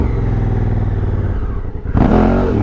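A heavy Honda Africa Twin adventure motorcycle climbs a steep off-road face, its engine droning loud and close with chain clatter, then surging into a sharp rev near the end.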